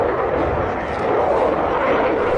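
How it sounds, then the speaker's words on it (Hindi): A Rafale fighter jet roars past overhead, a loud, steady broadband jet rush that holds for a couple of seconds with a slight dip midway, with no other sounds over it. "Rafale fighter jet."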